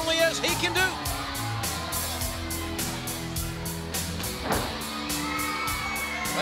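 A wrestling arena crowd cheers and shouts for Heavy Metal Van Hammer, a loud, steady roar of many voices with whoops, under a commentator's voice, and a sharp bang near the middle.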